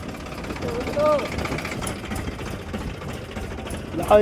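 A low, rumbling tractor engine chugs steadily nearby with a rhythmic knocking on a village road, some voices mixed in over the noise.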